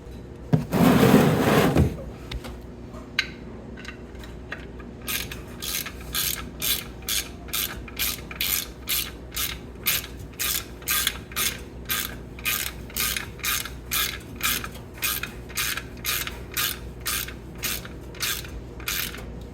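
Socket ratchet clicking steadily as the oil drain plug is tightened on a 2014 Polaris Sportsman 570 ATV, a fast run of close, crisp clicks in a regular rhythm after a brief rustle at the start, with no talking.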